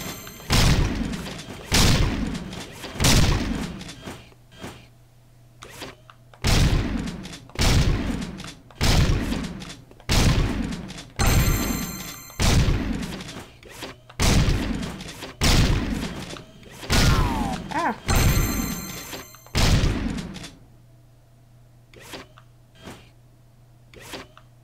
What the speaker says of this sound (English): How can you miss with a scatter gun